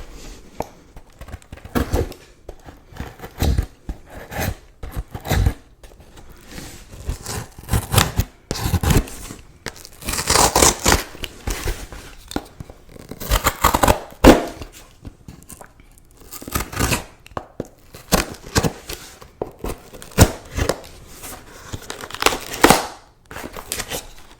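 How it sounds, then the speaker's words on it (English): Crinkly plastic packaging around a Tervis tumbler is handled and opened at close range, producing dense bursts of crackling and rustling with brief pauses between the louder crunches and no talking. "It's got crinkly packaging. This is gonna be fun."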